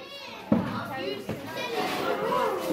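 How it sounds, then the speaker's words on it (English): Youngsters chatter and shout in a busy school dining room as they get their dinner, a lively background babble of children's voices with a couple of sharp clatters, heard while an adult talks nearby. "You can probably hear the youngsters in the background getting their dinner."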